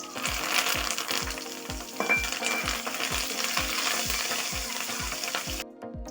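Green chillies and curry leaves fry in hot oil for coconut rice, a dense steady sizzle with a regular series of soft low thumps from stirring running throughout, close and loud until it cuts off near the end.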